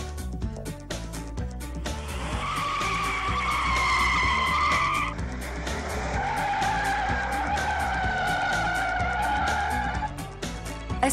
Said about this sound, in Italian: Circuito che stiamo percorrendo proprio a bordo della 550 Maranello.